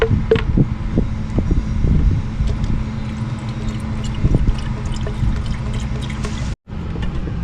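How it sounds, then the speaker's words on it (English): Power steering fluid poured from a bottle into the reservoir of a 2002 Cadillac Escalade, a soft continuous trickle and gurgle close by with faint clinks, briefly cut off near the end. "I'm going to put a little bit of power steering fluid in her."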